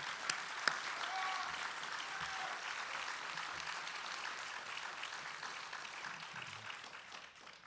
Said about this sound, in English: a huge round of applause for all of the Marines now and forever